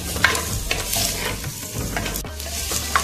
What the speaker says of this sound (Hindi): प्याज को हम फ्राई करेंगे।